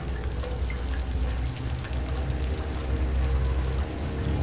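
Steady rain in the horror video game Outlast: a dense, even hiss of falling water with a low rumble beneath, holding unbroken and fairly loud throughout.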